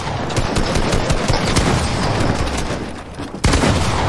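Loud, close rapid-fire gunfire from an Obsidian Box Fights match in Fortnite rattles in continuous bursts, ending in a brief lull and one sharp final shot.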